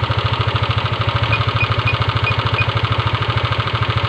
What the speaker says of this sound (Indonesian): ini kita kontrol dari putaran mesinnya